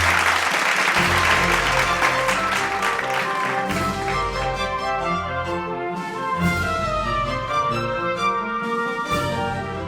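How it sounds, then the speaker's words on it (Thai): Applause rings out over loud, steady music at a birthday party, with a few scattered voices mixed in; the clapping stays busy and dense throughout. "ปรบมือให้ตัวเองด้วยสิ"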